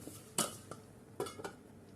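Lid set onto a pan of cooking pasta frittata: a sharp metallic clank followed by a few lighter clinks and one more rattling knock, close and fairly quiet against a hushed kitchen.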